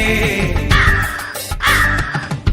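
A crow caws loudly and close by, two harsh calls in a row over a dense background of other sound.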